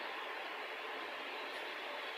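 Steady rumbling roll of the Choo-Choo Charles train in a video game, a continuous broadband rush of rail noise with no distinct whistle, moderately quiet and unbroken throughout.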